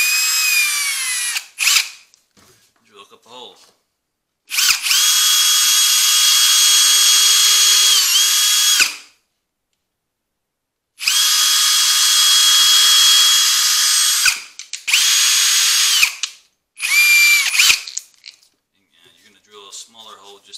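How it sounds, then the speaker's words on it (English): Power drill boring a small countersink hole in wood for a screw while building a canvas stretcher frame, several loud sustained bursts of whirring with short pauses between, close up. "Smaller hole just to countersink that screw."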